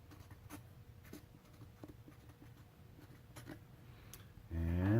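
Pen or marker scratching out a label on a gold paint test piece, soft faint strokes and light taps in a quiet room, ending with a louder voice speaking.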